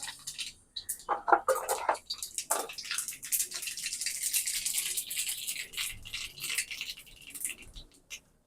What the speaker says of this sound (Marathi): यात मी अर्धा टीस्पून मोहरी घालते